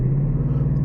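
2019 Ford Mustang GT accelerating in a 0 to 60 run, a brief loud low engine drone heard close and steady.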